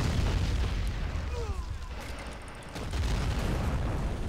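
Cannon fire aimed at an enemy tank in Men of War: Assault Squad 2, heard as heavy booms and blasts in a dense battlefield rumble, with a brief dip before the roar returns loud and continuous.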